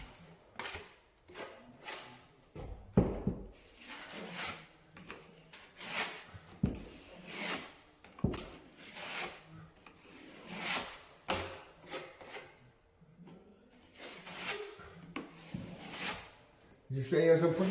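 A drywall knife spreads joint cement over a wall repair with repeated scraping and smoothing strokes, mostly under steady talk from a man.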